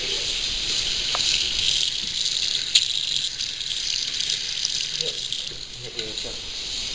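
Hot water runs steadily from a tap in a home shower, giving a constant broadband hiss with a few brief knocks and clicks; no one speaks.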